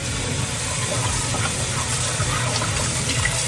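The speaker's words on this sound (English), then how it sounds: "add a little bit of water to the pan." Water runs into a cooking pan on a home stove, a steady hissing, splashing pour that holds loud and close for several seconds with no talk.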